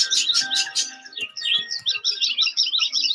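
Small birds chirp and tweet in quick, high, repeated bursts, with dense trills that come and go throughout. No one speaks.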